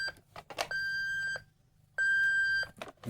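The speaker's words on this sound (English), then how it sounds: "that's a backing up sound effect" Two sustained electronic beeps from a Hess toy truck's reversing sound effect, each lasting under a second with a short gap between, bright and steady, with faint clicks around them.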